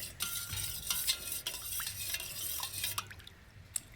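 Spoon stirring a Madurai-style tender coconut sarbath drink in a glass, with steady swishing liquid and light clinks and drips, close and fairly loud throughout.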